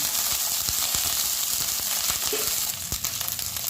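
Green chili, ginger and garlic paste frying in a pan for egg curry, a steady close hiss of sizzling oil with occasional sharp scrapes and knocks of a spoon stirring.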